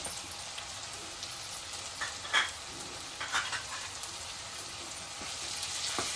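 Turmeric and homemade Koli masala sizzle in hot oil in a pan, a steady close crackling hiss with a few louder pops and stirring scrapes, no voices.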